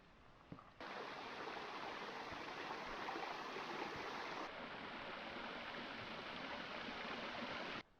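Boucher Creek in the Grand Canyon rushes past a backpacking campsite, a steady broadband water roar close by that starts abruptly, holds constant for several seconds and then cuts off.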